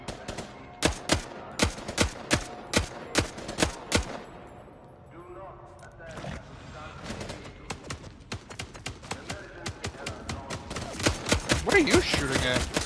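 Rapid gunfire in the vampire battle-royale game Vampire: The Masquerade – Bloodhunt, sharp repeated shots in bursts at the start, then a quieter stretch of ambient noise before denser clatter resumes, with voices speaking at times.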